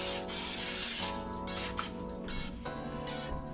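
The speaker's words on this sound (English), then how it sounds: "We're going to spray our casserole dish with some non-stick spray" Short hissing bursts of Pam non-stick cooking spray onto a casserole dish, a few quick sprays in succession, close and fairly quiet.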